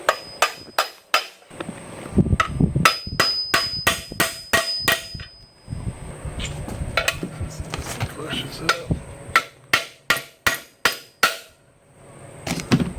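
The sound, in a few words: hammer tapping bearing into Dana 20 transfer case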